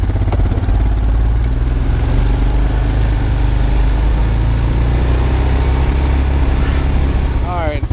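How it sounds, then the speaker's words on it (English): Loud, steady engine roar of a power box rake fitted with an electric seeder, running continuously up close with a rattling mechanical drone throughout. "turn the seeder on"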